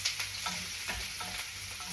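Beef sautéing in a hot pan, a dense continuous sizzle broken by quick scraping stir strokes, close and fairly quiet with no talk.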